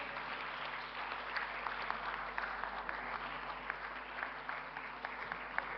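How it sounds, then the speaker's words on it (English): An audience at a large women's conclave applauds in a steady, continuous wash of clapping heard from some distance, unbroken for the full stretch. "Let's keep the applause going."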